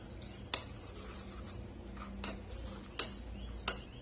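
Spoon clinking in a bowl while a lemon garlic marinade with oil and salt is stirred for grilled chicken breast; quiet scraping with three sharp knocks against the dish, no talking.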